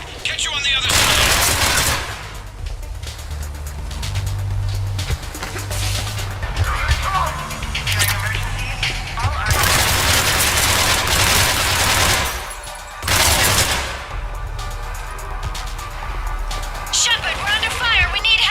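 Gunfire in Mass Effect Legendary Edition: sustained rapid weapon fire and bursts of shots with booms, loud and close, continuing almost throughout under overlapping squad voices shouting in combat.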